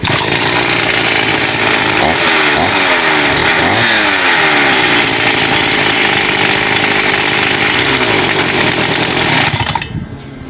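A repaired 49cc two-stroke stand-up scooter engine runs loud and close with a buzzy, raspy drone that rises and falls slightly, then cuts out abruptly near the end.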